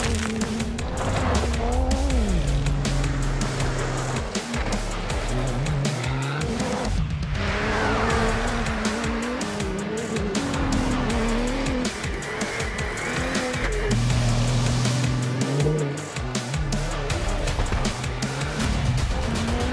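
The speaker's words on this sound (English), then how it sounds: "Ford Performance Ranger is racing at the Dakar Rally" Ford Performance Ranger racing off-road in the desert at the Dakar Rally, engine roaring loud and continuous with rising and falling revs, gear changes and rough tire noise throughout.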